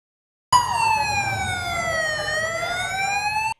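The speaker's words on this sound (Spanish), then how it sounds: "Entre ruidos de sirenas y vehículos policiales" A single loud electronic police siren wails continuously, its pitch sliding down and then rising again, close by and with no talking.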